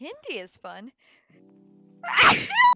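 A single loud, sharp sneeze bursts out near the end, following a person speaking briefly and a quiet pause.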